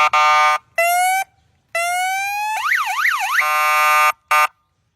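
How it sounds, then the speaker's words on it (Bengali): A homemade cycle vehicle sounds a loud electronic siren-style horn in several bursts: steady tones, a rising whoop, then a fast warbling wail, each separated by short silences. "আপনার গাড়িতে কি হর্ন আছে? হর্ন আছে? হর্ন জি হ্যাঁ আছে।"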